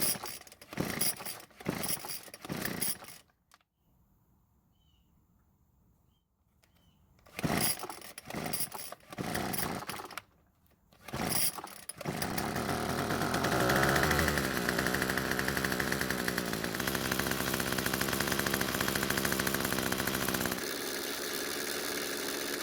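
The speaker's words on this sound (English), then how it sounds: "I think it's good enough for a test start." A Bolens string trimmer's small two-stroke engine being pulled over in short bursts, then catching and running steadily for several seconds, loud and close with a raspy buzz and no talking.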